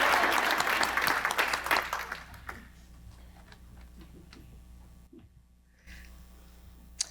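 Applause at a charity awards event starts full and loud, then thins out after a couple of seconds, leaving a few scattered claps and faint ticking in a quieter room.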